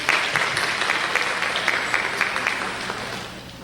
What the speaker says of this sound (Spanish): Recibamos con un fuerte aplauso a la doctora Paula Carlino